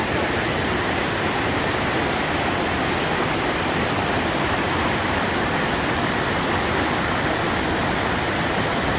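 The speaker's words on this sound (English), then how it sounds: "not even a mile into the hike, we get this beautiful cascading waterfall" A cascading waterfall beside Taggart Lake Trail in Grand Teton National Park gives a loud, steady broadband rush of falling water, constant and close throughout with no voices.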